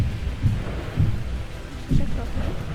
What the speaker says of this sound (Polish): to jest ta burza